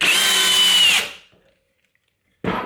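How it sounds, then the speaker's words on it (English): A drill driver drives a screw into wood without a pre-drilled hole, whining loudly for about a second, then stopping into near silence before briefly spinning up again. "when you're using your drill driver"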